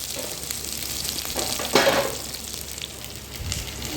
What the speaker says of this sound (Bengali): পেঁয়াজটাকে গরম তেলের মধ্যে ভালো করে ভাজতে হবে।